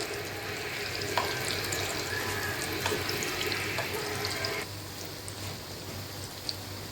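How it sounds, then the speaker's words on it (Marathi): Corn bhaji fritters fry in hot oil with a dense, even bubbling hiss that dips partway through as they are turned over, with occasional soft taps. "आता आपण ही सगळी भजी पलटून घेऊया।"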